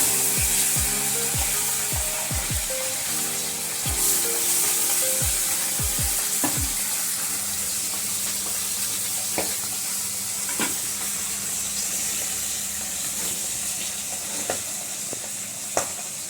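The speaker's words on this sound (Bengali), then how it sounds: "এবার মাছ ভেজে নেব।" Chapila fish sizzles in hot oil in a home kitchen, opening with a cluster of sharp clattering knocks as pieces go into the pan, then a steady, moderately loud frying hiss with occasional scattered clicks.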